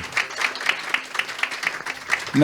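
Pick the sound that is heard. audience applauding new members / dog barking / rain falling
audience applauding new members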